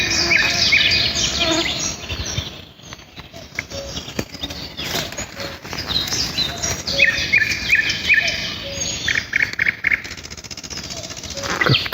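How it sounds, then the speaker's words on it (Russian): Birds sing and chirp in a summer forest with young fir trees on a warm morning: bright, repeated trills and tweets from several birds, fairly close, with small rustles and pauses between phrases. "А как те тут птицы поют, это вообще просто космос."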